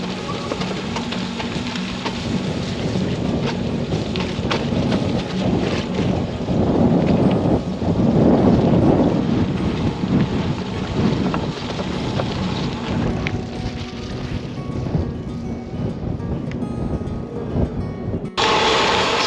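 Steady buffeting wind roaring across a microphone while gravel cycling on exposed winter hills near Edinburgh, a loud continuous rumble that swells and eases, with no clear talk.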